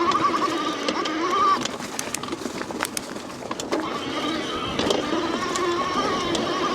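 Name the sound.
Bafang mid-drive e-bike motor under throttle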